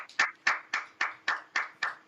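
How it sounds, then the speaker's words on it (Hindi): Eight evenly spaced hand claps in a steady rhythm, sharp and close, with no voices. "इस मंच पर उपस्थित सभी नेटिजन्स के सम्मान में एक बार जोरदार ताली फ्रेंड्स"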